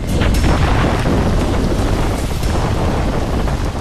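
Strong wind buffets the microphone on the mountainside at Gorakhgad fort during rain, a loud, unbroken roar with deep rumbling gusts and no voices.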